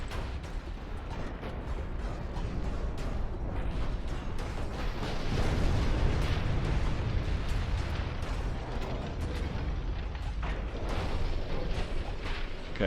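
Naval gunfire in the game Ultimate Admiral with 1940-era battleships, rumbling booms and bursts rolling over one another at a constant low roar with scattered sharper pops.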